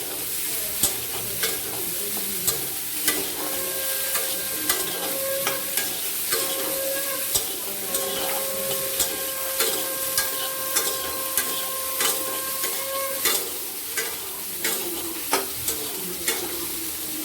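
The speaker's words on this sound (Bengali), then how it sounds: "একদিকে পটল ভাজছি" Pointed gourd and cauliflower fry in oil with turmeric, sizzling steadily up close while a utensil scrapes and stirs the pan in regular strokes, and a faint tonal hum runs through the middle.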